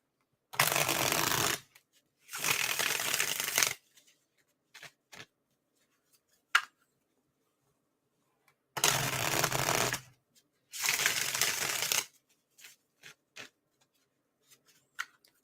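A Rider-Waite-Smith tarot deck is riffle-shuffled in four distinct bursts, each about a second long and close, separated by quiet pauses with light card taps and handling sounds.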